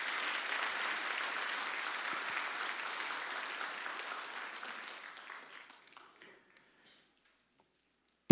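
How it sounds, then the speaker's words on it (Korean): A church congregation at a Sunday worship service breaks into warm applause, steady and full for several seconds before thinning out and fading to silence. "다시 한번 뜨거운 박수로 격려해 주시면."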